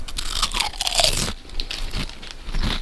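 Potato chips crunch loudly in a close mouth as someone eats, a dense run of crisp bites and chewing over about three seconds with brief pauses between mouthfuls.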